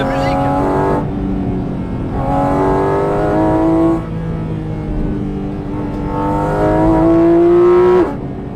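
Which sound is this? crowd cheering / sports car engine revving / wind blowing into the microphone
sports car engine revving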